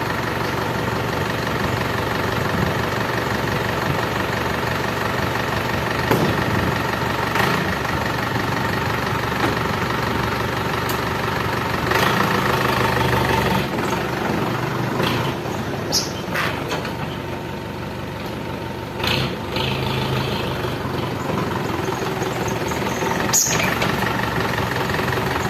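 An Isuzu 4BE1 diesel engine, newly converted to a 4HF1 transmission, idling on test in a motor pool, a steady rough clatter throughout with a few brief knocks and clanks over it.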